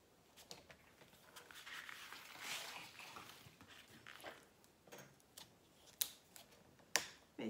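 Small scissors snip paper for a paper relief picture in a series of quiet cuts and soft rustles, ending with a few sharper snips. Faint and close, with no talk.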